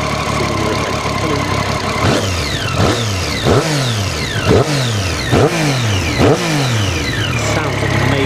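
Triumph Street Triple R motorcycle engine, a 2013 ABS model with standard cam, revving hard in repeated loud blips that rise and fall sharply over a steady idle, heard up close with no talk.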